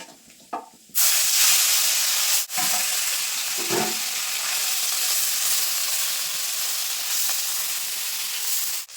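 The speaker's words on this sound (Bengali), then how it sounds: "এখন বাকি যে মাছগুলো আছে এগুলো কিন্তু একইভাবে ভেজে নেবো" Small chela fish frying in hot oil, a loud steady hissing sizzle that starts abruptly and continues close up, with a couple of faint knocks and no talk.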